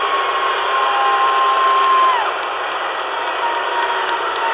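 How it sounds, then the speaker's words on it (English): Arena crowd at a Cage Wars mixed martial arts event roars and cheers steadily after a three-round fight, a dense wash of voices and clapping with a long whistle-like tone running through it. "a round of applause for two great fighters and one hell of a contest"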